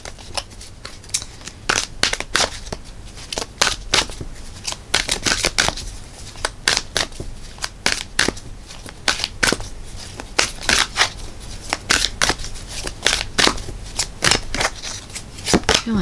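Tarot cards shuffled by hand during a reading, producing loud, close, repeated riffling bursts and flicks in an uneven rhythm throughout; a voice also speaks along the way.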